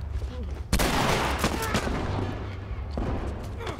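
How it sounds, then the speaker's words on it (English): A shotgun blast in The Last of Us Remastered, a sudden loud boom followed by a dense rumbling, crackling tail of gunfire and action noise lasting several seconds. "Better pull out my shotgun for this bad boy."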